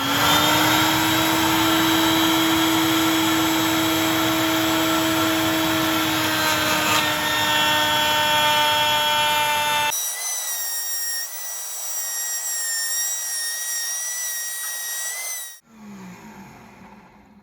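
Router table cutter shaping a wooden piece for a bowtie clock, a loud steady high-pitched whine with a sustained hiss that changes pitch partway through and then cuts off near the end.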